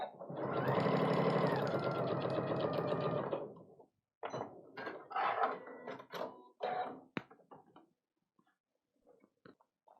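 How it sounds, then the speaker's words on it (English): A sewing machine stitches vinyl into bag binding in one loud steady run of about three seconds, followed by softer scattered handling and fabric rustling noises nearby. "I just slip that vinyl right into that binding, and I'm going to sew it down"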